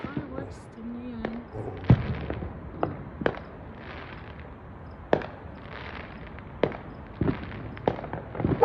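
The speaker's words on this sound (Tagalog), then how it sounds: "And ayun, nakikita mo na yung fireworks." Fourth of July fireworks bursting in the sky, heard as a scattered series of sharp distant pops and bangs at irregular intervals over a low background hum with faint voices.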